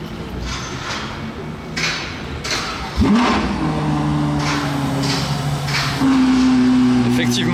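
A Ferrari 812 with a modified exhaust pulls away in a street setting, its engine note surging and climbing in pitch after a sharp burst, loud and close over busy background noise.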